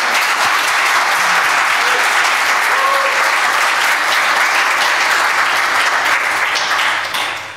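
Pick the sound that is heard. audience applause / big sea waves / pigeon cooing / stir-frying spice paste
audience applause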